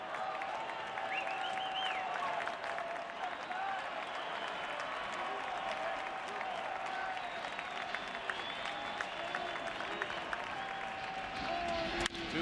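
Large ballpark crowd at a Cubs at Giants NLDS playoff game keeps up steady, dense applause and cheering for the whole stretch, a broad roar with scattered whistles and a commentator's voice faintly audible beneath it.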